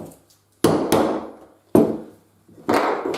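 Two-part metal rivet hammered into a canvas and leather bag: four sharp, close hammer blows in an irregular rhythm, each ringing briefly before fading, with no talk.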